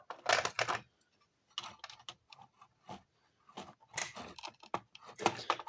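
Scrap parts, plastic and metal, are cut apart during dismantling for metal recycling, heard as close, irregular bursts of crisp snipping and crunching separated by short quiet gaps.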